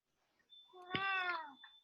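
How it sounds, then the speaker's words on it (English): A single cat meows once, a drawn-out rising and falling call lasting about a second, fairly close and clear in an otherwise quiet room. "No, move the cat away, Becca"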